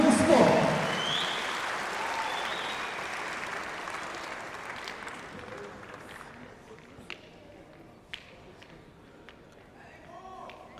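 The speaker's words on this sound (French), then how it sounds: "je vais vous demander de les applaudir un petit peu" Applause for the players at a pétanque triplette final at the Coupe de France in Montbéliard, starting fairly loud and fading into scattered claps and sharp clicks, with a voice over the opening moments.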